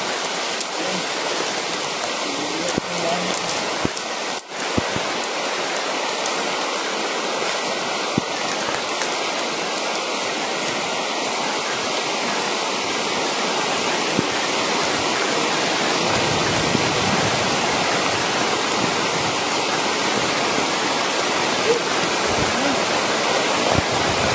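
Heavy rain pours in a dense, continuous hiss, loud and close, with no talking.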